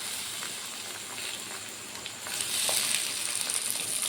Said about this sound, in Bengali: পটলের তরকারিটা করবো, খোসাটাও ভেজে নিই